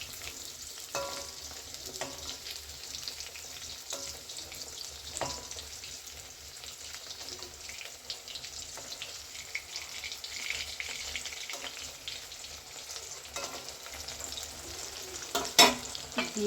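Stuffed ash gourd pieces fry in oil in a pan with a lid, a steady close sizzle with occasional light clinks and one louder clatter near the end as the slices are handled.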